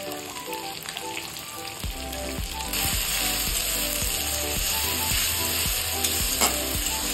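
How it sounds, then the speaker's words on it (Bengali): Ginger garlic paste fries in a pan with a steady close sizzle, while a utensil scrapes and stirs in regular repeated strokes, growing louder partway through. "আদা রসুনটাকে আমি কিছুক্ষণ ভেজে নিলাম।"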